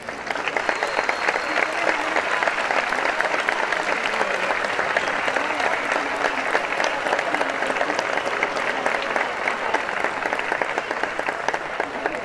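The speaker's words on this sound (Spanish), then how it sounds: "aplauso también para ellos." A crowd applauds at an Oktoberfest celebration marking the 92nd anniversary of Villa General Belgrano. Dense, even clapping runs unbroken for about twelve seconds at a steady loudness.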